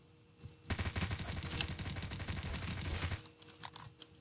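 Rapid bursts of in-game gunfire fill a dense stretch in the middle, part of a firefight in Apocalypse Rising 2 where a Mosin rifle is heard, loud and continuous before trailing off into a few scattered shots.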